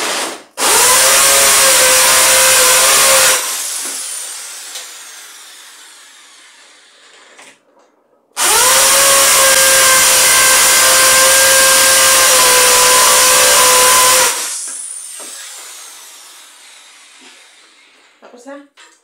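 An impact driver installing a doorway pull-up bar fires in two loud, sustained whining bursts of several seconds each, each followed by a fading ring and a pause.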